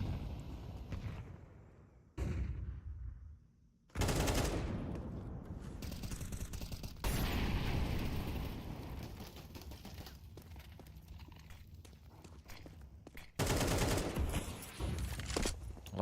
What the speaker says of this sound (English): A lot of shots there from Xilo.